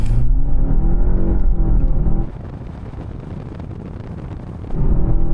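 BMW 520i pulls hard from a standstill toward 60 mph, the engine droning loud and rising in pitch, dropping briefly in level at a gear change, then surging again, with no talking.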